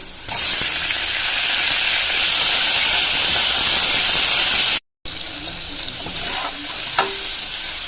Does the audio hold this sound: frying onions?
yes